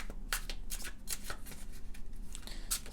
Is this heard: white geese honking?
no